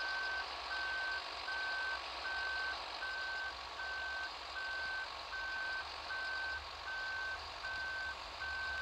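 A truck in Farming Simulator reverses, its backup alarm beeping in an even, rapid series of short tones over a low engine drone, clear and close with no talk.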